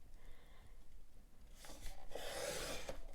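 Paper being trimmed at a desk for a paper bag notebook, a quiet rasping rub that swells into a louder, brighter scraping cut in the second half, close and without speech.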